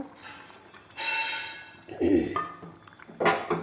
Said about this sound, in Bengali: এই বেড়াইয়ের ভিতর আমি মাছটা ঢেলে দেবো কই মাছটা